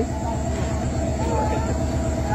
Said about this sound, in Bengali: 797 আপ কুড়িগ্রাম এক্সপ্রেস ট্রেনটি মিরবাগ ঢোকার পূর্বে কোয়ালের পালার মধ্যে আটকে, এখন গাড়িটি আস্তে করে ব্যাক দেয়া হচ্ছে